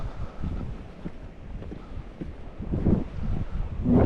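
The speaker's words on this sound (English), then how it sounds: "it's obviously choppy because the wind is quite strong, blowing across the top of it" Strong wind blowing across a choppy reservoir, heavy gusting buffeting the microphone with low rumbling surges that swell louder toward the end, no voices.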